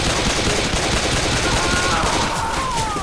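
Gunfire in the Left 4 Dead video game rattles continuously and loudly in rapid bursts, with players talking over the shooting.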